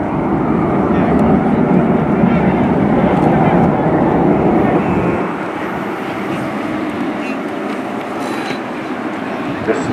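Loud, continuous roar of RAF Red Arrows jets performing a flying display at RIAT 2018, filling the whole clip and easing slightly after the midpoint, with a commentator's voice over it.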